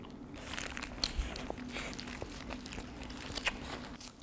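Kyochon fried chicken being bitten and chewed close up, a few crisp crunches and soft chewing sounds over quiet room tone.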